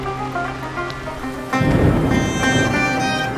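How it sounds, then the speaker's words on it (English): Heavy thunderstorm rain falling outdoors in Bosnia and Herzegovina, a steady broadband hiss that swells sharply into a louder, denser downpour with low rumbling about halfway through, close and continuous, with no voices. "Well, a thunderstorm was not in my plans. But can some rain stop me?"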